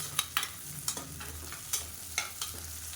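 Onions and tiny chillies sauté in a pan for a chicken uppu curry, with rhythmic scraping stirs and soft crackles over a low sizzle, quiet and close.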